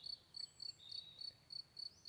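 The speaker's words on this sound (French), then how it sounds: "des grillons" Crickets chirp in steady, repeating pulses, high-pitched and shrill, over a quiet background with nothing else going on.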